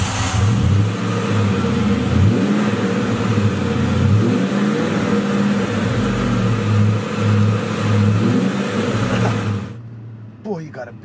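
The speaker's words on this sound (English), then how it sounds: "So let's start it up and see how it sounds." A white 1999 Ford Mustang Cobra SVT runs loud and close, its rough V8 rumble rising and falling with light revs for several seconds before the sound drops away to near silence.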